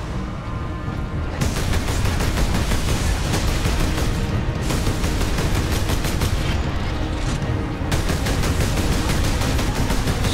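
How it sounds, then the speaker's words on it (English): Dense, continuous gunfire and explosions from the video game Warhammer 40,000 Space Marine roar in loud rapid bursts, with heavy booms layered throughout and no let-up across the whole stretch. "Oh, God, people shooting at me."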